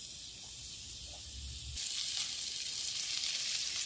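Vegetables (string beans and taro stalks) frying in a pan, a steady bright sizzle with a low stirring rumble in the first part, then a louder, broader hiss that continues alone.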